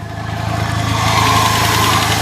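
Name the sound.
car engine running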